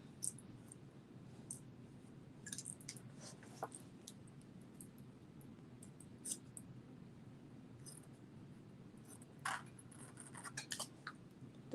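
Thinning scissors snip through curly hair at close range, giving faint, scattered clicks and snips over a low steady background hum, with a few brief bursts of cutting.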